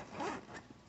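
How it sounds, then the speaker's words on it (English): A quick, close zipper pull on an Ozark Trail soft-sided fishing tackle bag, one short rasping stroke, faint and isolated. "It comes with a zipper and a little latch."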